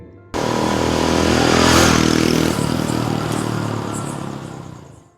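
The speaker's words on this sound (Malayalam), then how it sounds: "ബൈക്കൊന്ന് ഇരപ്പിച്ച ശേഷം അവൻ മുന്നോട്ടെടുത്തതും" A motorcycle engine bursts in and revs hard, its roar swelling, then easing into a steadier drone as the bike pulls away, staying fairly loud and close throughout.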